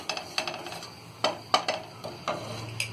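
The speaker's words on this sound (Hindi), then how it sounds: "अब इन सारी चीजों को हम अच्छी तरह मिक्स कर देंगे" Salt and other ingredients for palak paneer being stirred in a pan, a spoon scraping and tapping against the metal in several separate strokes, close by and without talk.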